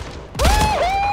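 Gunfire erupts in the video game Slipgate: a sudden loud burst of shots, then a sustained ringing electronic whine that bends in pitch and holds steady to the end.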